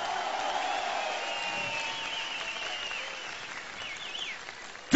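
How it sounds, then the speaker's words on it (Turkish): A large outdoor crowd applauds at a presidential candidate's campaign rally in Manisa, a steady distant roar of clapping and cheering that holds throughout with faint shouts in it. "Kocaman bir alkış gönderin onlara."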